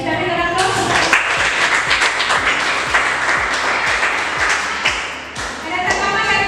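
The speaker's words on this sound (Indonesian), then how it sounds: "Baik, kita berikan aplaus." A classroom of students claps together in steady, sustained applause, loud and close, with some voices mixed in.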